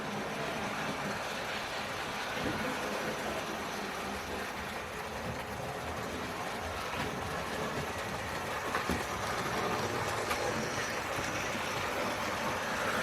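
A Bachmann S&D 7F model steam locomotive running laps around a layout track, giving a faint, steady whirring rumble with light rail clicks throughout, continuous and unvoiced.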